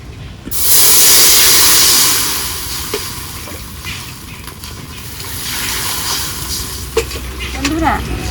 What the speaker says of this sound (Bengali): জল তো টকবক করে ফুটছে